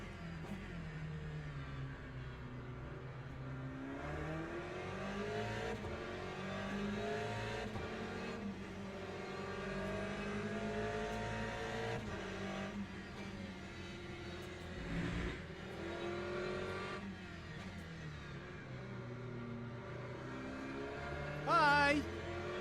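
A race car engine in the Le Mans Ultimate sim racing game drones steadily throughout, with shifting revs, brief gear changes and other cars passing, under occasional talking.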